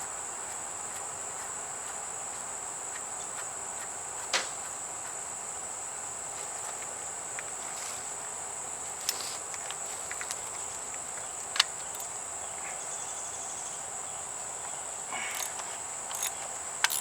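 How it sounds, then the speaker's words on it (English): A grasshopper chirps outdoors in a steady, continuous high-pitched buzz near a workshop, broken by a few faint clicks and taps. "Grasshopper."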